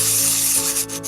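Miniature clay bowl being smoothed with file sandpaper, going back over its shaped edges and cut-out holes; a close, steady scratchy rubbing lasting about a second, with no talking.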